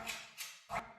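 Dog from a duck-shooting video game, three short bright bursts spaced about a third of a second apart, like quick yipping barks or laughs, fairly loud and with no talking.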